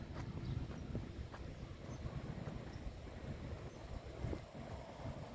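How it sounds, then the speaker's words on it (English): Faint, steady low rumble of ocean surf heard from a garden after rain, a soft continuous wash with light wind noise and no voices. "You can hear the ocean here."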